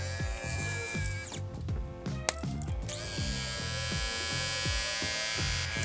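A Conture Kinetic battery-powered skin polisher runs with a steady electric motor hum and buzz, fairly quiet and close, with a brief rattling change partway through before settling back into an even drone.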